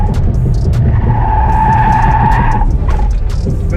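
BMW 530i E34 sliding sideways at a drift event, tires squealing in a sustained, loud screech for about two seconds over a rumbling engine, then breaking off as the car straightens.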